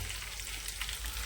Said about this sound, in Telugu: ఇదిగోండి, ఈ విధంగా చక్కగా తాలింపు వేగుతుంది.